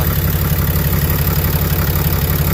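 A 2014 Ram with the 6.7 diesel idles with a steady, rhythmic low chug and mechanical clatter, close and continuous with no talk.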